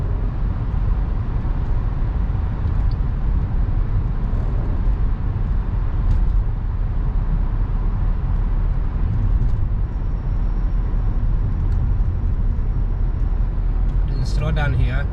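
Steady engine and road rumble from a car driving through city traffic past government buildings in Washington, D.C., a continuous loud drone from inside the vehicle with occasional faint tones near the end.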